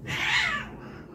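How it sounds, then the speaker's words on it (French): A single pet cat meows once indoors, a clear, fairly close cry lasting about half a second before trailing off into quiet room noise. "Vous allez beaucoup voir et entendre les chats"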